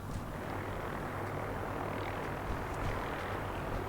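Steady drone of aircraft engines and maneuvering jets on the Pridwin airship in the video game Fallout 4, a continuous dense rumble and whoosh held at an even level, with no speech.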